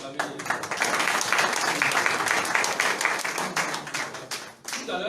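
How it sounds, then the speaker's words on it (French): An audience applauds after a theatre performance, brisk dense clapping that builds and holds for several seconds, then thins out near the end. "On peut acclamer"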